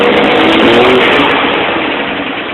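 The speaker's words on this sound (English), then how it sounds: "you can hear how it's losing fuel at that high point. Turbo's nice and healthy." A turbocharged truck engine roars loud and steady, held at high revs with a dense, sustained drone that eases slightly toward the end, its fuel delivery faltering at the top of the rev range.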